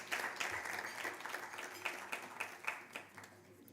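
Scattered, fairly faint audience clapping at a Ring the Bell for Gender Equality event marking twenty years of listing on Uganda's stock exchange, with individual claps distinct and uneven in a modest room.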